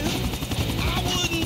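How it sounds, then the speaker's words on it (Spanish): A helicopter in the video game Grand Theft Auto 4 flies steadily, its rotor and engine giving a continuous loud whirring drone. "A aterrizar el helicóptero junto al muelle de carga"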